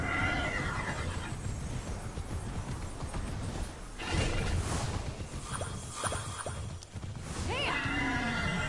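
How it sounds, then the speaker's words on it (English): A horse neighs and whinnies over a steady rumble of galloping hooves and game noise in Immortals Fenyx Rising, with a rising whinny near the end. "I'm trying to get this horse to go faster."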